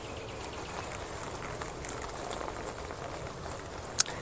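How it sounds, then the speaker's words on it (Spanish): Water is poured over a Coleman Amazonia tent as a waterproofing test, giving a steady soft hiss and patter of water on fabric with a brief sharper splash near the end. "Vamos a coger un poco de agua y vamos a regarla para que ustedes vean."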